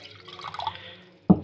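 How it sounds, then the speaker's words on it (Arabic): Water is poured in to start a yeast dough for molto pastries, arriving as a single short, close splash near the end after quiet handling noise. "اول حاجة هنحط شوية مية"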